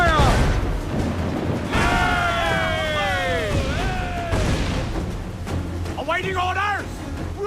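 Ship cannons fire in a naval battle in Assassin's Creed IV Black Flag, heavy broadside booms and crashes rolling under loud shouted crew voices throughout.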